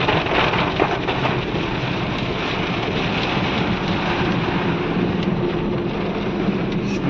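Steady, loud rain pours in a foggy mountain pass (ghat), a dense continuous hiss with no voices, holding evenly throughout.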